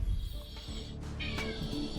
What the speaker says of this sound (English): I will let the cat in because it's being very noisy.